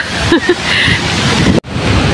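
Strong wind gusts across the microphone outdoors in Münster, Germany, a loud, steady rushing roar with brief dips and a sharp cutout near the end, voices faintly mixed in.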